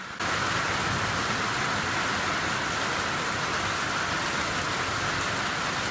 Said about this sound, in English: Well, guess what? It's raining.